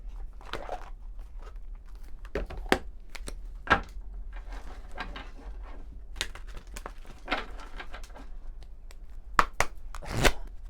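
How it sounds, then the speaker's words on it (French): Oracle cards being shuffled by hand, heard as soft, irregular riffling and papery snaps that come in short bursts with brief pauses between them, fairly quiet and close, with no talking. "On va prendre l'oracle des météores, on va prendre quelques cartes."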